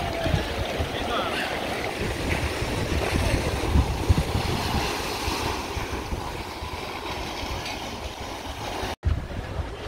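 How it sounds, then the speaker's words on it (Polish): Big sea waves breaking on a beach at Cala Llombards in Majorca, a loud continuous roar and wash of surf heard close by, with no pause throughout. "Ale bardzo są dzisiaj duże fale tutaj."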